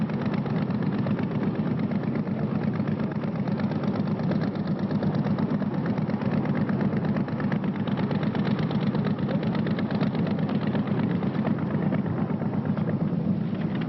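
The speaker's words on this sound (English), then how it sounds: "the huge petrol engines which drive the Class 1 outfits" Big petrol engines of Class 1 offshore powerboats drone in a steady, loud, continuous roar with a rapid pulsing texture, unbroken for the whole stretch and with no voices.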